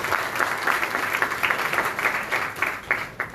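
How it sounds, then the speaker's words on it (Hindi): An audience at a Goa government rural development workshop applauds to welcome a minister, steady dense clapping from a crowd holding at an even level throughout. "आप भी उनका तालियों से स्वागत करें"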